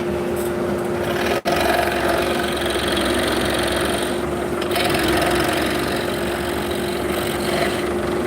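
A scroll saw cuts out the inside of a mortise through a drilled hole in wood, producing a steady, close buzzing hum with an even reciprocating drone and one brief dropout partway through.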